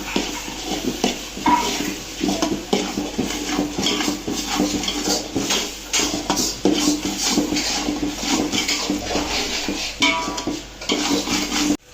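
Ginger garlic paste being stirred into a large pot of chicken biryani base with tomatoes and oil, a spoon scraping and clanking against the metal pot in a steady, busy rhythm with no talking.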